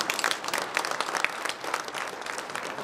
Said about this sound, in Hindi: एक बार उन सब के लिए जोर से ताली दीजिए